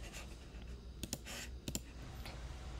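Computer mouse clicks while working in Adobe Illustrator with the scissors tool, a few sharp, quiet clicks in pairs over a faint background hiss, close and soft.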